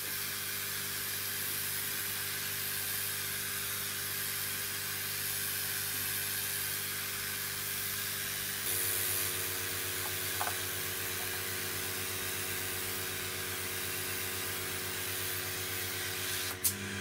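Air assist pump for a laser pushes air through 8mm silicone hose, giving a steady broadband hiss and low motor hum that runs continuously, its tone shifting partway through.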